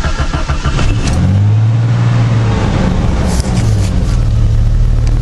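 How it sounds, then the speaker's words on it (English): A Jeep Wrangler's inline six-cylinder engine cranks and fires, then settles into a loud, close, steady rumbling idle with a slight rev, with no talking. "And we'll jump in and fire it up and take it for a drive."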